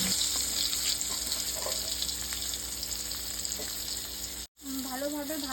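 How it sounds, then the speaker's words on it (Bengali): Eggs fry one at a time in hot oil in a pan, giving a steady, close sizzle that stays even throughout, broken only by one brief moment of near silence before the frying resumes. "আমি ডিমগুলো একটা একটা করে ভেজে নেব"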